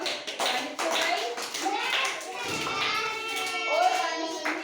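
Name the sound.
children clapping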